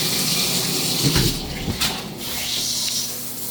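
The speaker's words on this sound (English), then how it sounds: "The water pressure and even the shower nozzle wasn't great. I'll run it for you real quick." Shower running in a motel bathroom with weak water pressure and a poor nozzle, a steady close hiss of spraying water with a few brief knocks, no talking.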